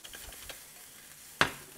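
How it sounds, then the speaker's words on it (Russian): Onions are sautéed in a frying pan with a soft, low crackle, faint stirring scrapes, and one sharp, brief burst of sizzling or clattering near the end. "Лук пропассеруем где-то 5-7 минут до золотистого цвета"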